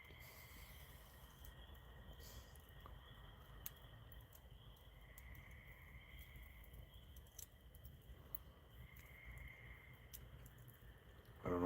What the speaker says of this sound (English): I don't know if you can hear the frogs.